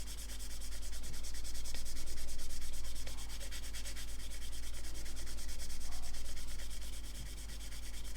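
Steady, close-up wet scrubbing as a Trizact abrasive pad rubs back and forth over a freshly painted lacquer surface, continuous and even with no talking.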